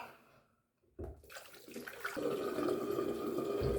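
Water runs from a tap at a bathroom sink while someone washes up after shaving, beginning with a brief silence, then a quick splash before the flow builds into a steady, close rush.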